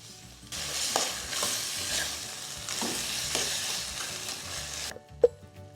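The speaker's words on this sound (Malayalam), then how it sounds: "ഇത് നന്നായിട്ട് അങ്ങോട്ട് മിക്സ് ചെയ്ത് കൊടുക്കാം." Mashed potato and carrot masala being stirred in a pan for Mysore masala dosa: steady scraping and soft sizzling strokes, ending with a sharp tap of the spoon.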